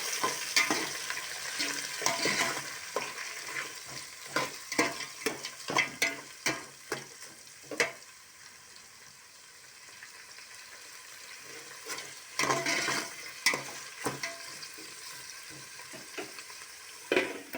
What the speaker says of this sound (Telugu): కట్ చేసిన ఎర్రగడ్డలు ఇందులో వేసుకోవాలి. కలిపించుకోవాలి.